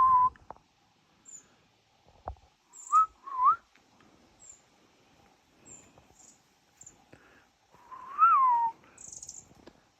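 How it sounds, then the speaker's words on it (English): Small birds call on a forest trail by the middle falls, a few thin whistled chirps scattered near and far, with short quiet gaps between calls and no talking. "Oh, the little birds."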